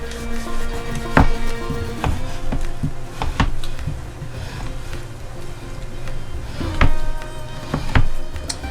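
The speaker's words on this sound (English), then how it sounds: "I'm first going to break these into some big chunks and then cut them into little chunks for the grinder." Boneless pork being cut into chunks for a sausage grinder, with a knife knocking sharply on a cutting board in irregular close thuds and scrapes over a steady background hum.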